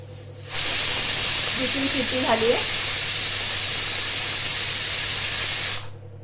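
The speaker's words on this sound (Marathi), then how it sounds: "चार शिट्ट्या करून घेऊया कुकरच्या" A stovetop pressure cooker full of cowpea (chavli) pods lets off a long, steady steam hiss lasting about five seconds, loud and close, with a faint voice briefly murmuring partway through.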